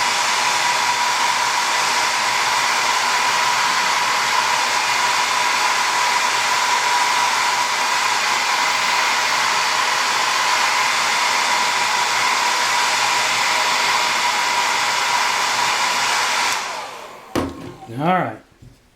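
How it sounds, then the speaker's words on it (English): A blow dryer drying a carved wooden penguin runs loud and steady with a constant whirring roar, then switches off near the end, followed by a few handling clunks. "We'll hit the blow dryer just to make sure it's completely dry."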